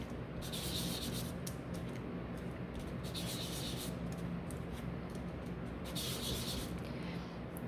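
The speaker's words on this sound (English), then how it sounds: "I don't think I sanded those, so I'm just gonna quickly do that" Sanding the small circular parts of a wooden barn model by hand, heard as close, dry rubbing strokes that come in a steady run of short, scratchy bursts.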